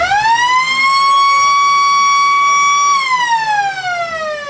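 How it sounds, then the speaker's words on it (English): A very loud quarter-time siren at a suburban football ground during a local league match, one sustained rising wail that holds steady and then falls away, heard up close from a balcony. "As we get the world's loudest siren."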